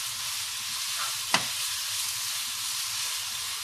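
Rice with pork and garlic sizzles steadily in a hot pan while being stir-fried, a continuous close frying hiss with one brief sharp scrape of the spatula partway through.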